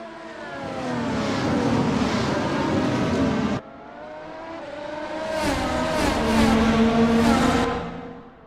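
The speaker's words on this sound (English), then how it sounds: "Love the way these cars sound." Race cars lapping the Nürburgring during a Season 9 Round 4 race, engines roaring loud and close with rising revs, a sudden cut as one passes, then another building wail of acceleration.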